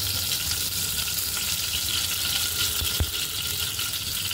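Tempering sizzling in a kadai over a low flame, a steady close crackling hiss with a single soft clink partway through and no voices.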